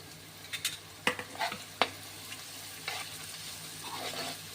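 Garlic and ginger briefly sautéed on high heat for noodles, a soft steady sizzle with a handful of scraping stirs and clinks of the spatula against the pan, close and without talk.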